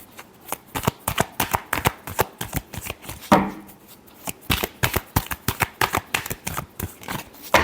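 Tarot cards shuffled in a quick, crisp run of riffling flicks and snaps, with a brief louder burst partway through, close and clear with no talking.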